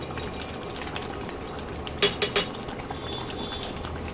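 A spoon stirs ghee into dal in a pot, steady soft scraping under a low room hum with a few brief metallic clinks of the spoon against the vessel.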